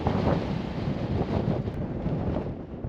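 Cold wind blasts across the microphone on the summit of Flattop Mountain, a loud, continuous roaring buffet with gusty swells and no voices.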